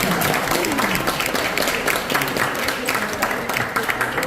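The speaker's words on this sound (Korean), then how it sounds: "이성경 집사님 뜨거운 박수 부탁드립니다." A church group on an overnight trip gives a deacon warm applause, a lively, close clatter of clapping with scattered voices and cheers mixed in, steady from start to finish.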